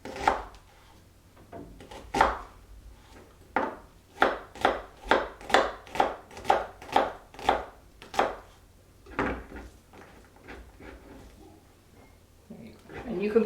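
A knife dices onions steadily on a cutting board, a run of about a dozen sharp, evenly spaced strikes, with a few scattered taps before and after.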